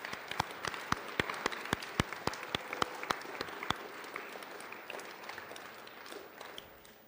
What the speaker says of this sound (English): can we give one round of applause for everybody that makes activities happen?